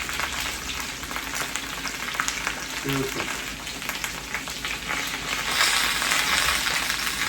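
Chicken frying in hot oil, alongside potatoes in the pan, gives a steady, close, dense sizzle and crackle throughout, swelling slightly louder near the end, with a brief faint clink partway through.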